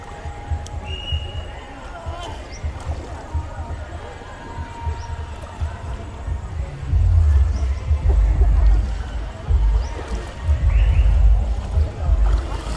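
Paddles churning river water from boats on the Nam Song at Vang Vieng, a steady splashing wash under nearby chatter and shouting, growing louder and heavier in the second half.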